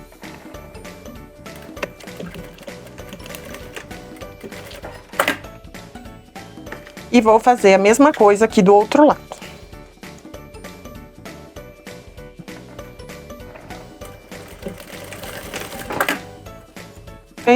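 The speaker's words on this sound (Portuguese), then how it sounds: "vou passar uma costurinha com um pé de máquina" A sewing machine stitches a zipper onto fabric in one rapid, mechanical burst of about two seconds, with quieter clicks and handling noises before and after while someone talks over parts of it.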